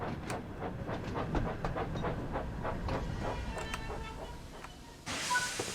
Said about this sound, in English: As Thomas's train pulled into the station